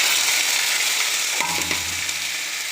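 Ginger garlic paste, cumin, coriander, turmeric and chili powder hitting hot oil for chola bhuna, a loud continuous sizzle with a stirring scrape partway through.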